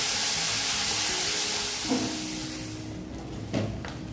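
Garlic, shrimp and ridge gourd sizzle in a pan, a hissing fry that fades gradually while a spatula stirs, with two distinct scraping knocks against the pan.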